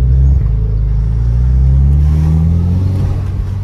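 VW Jetta TSI fitted with a 3-inch stainless steel exhaust accelerating, a loud deep booming engine rumble rising in pitch as it pulls, heard up close without talking.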